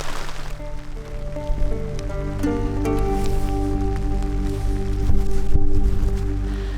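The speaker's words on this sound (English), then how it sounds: "It started raining more out here" Rain falling outdoors in the Minnesota backcountry, a steady close patter on surfaces that runs throughout, layered with a low steady hum and some tonal ringing, with no talk.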